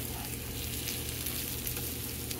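Vegan sausage fries in hot oil in a pan, giving a continuous dense sizzle at steady moderate loudness, with no talk over it.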